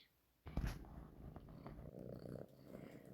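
A cat purring softly and close by, a low rhythmic rumble that begins after a brief quiet start and continues faintly to the end, with no voices.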